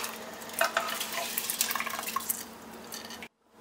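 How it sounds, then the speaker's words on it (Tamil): Soaked basmati rice tipped into a pot of boiling water for Chennai-style chicken biryani made in a pressure cooker, then gently stirred, giving close-up wet pattering, splashing and scraping that stops abruptly near the end. "பாஸ்மதி அரிசி வந்து இதில் வந்து சேர்த்துக்கலாம்."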